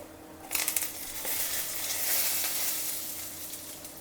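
Mustard seeds, cumin, green chillies and a dried red chilli hit hot oil in a tempering and burst into a loud, close hiss, which settles into a steady sizzle with no voices over it.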